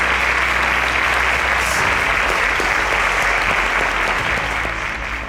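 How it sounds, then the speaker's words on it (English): A quiz-show audience applauds a correct answer, dense, steady clapping filling the room at full volume for about five seconds, with no voices breaking through. "A round of applause for Edith Young."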